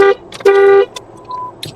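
Car horns honk outside, a short toot followed by a longer sustained blast and a faint later tone, heard from a room with little else going on.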